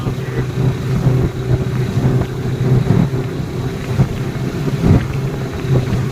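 A Huangjie 40 HP outboard motorboat on its maiden run, its motor droning steadily up close under heavy wind buffeting and splashy water noise, with no talking.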